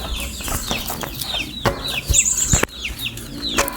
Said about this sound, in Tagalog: Maingay kasi ng manok.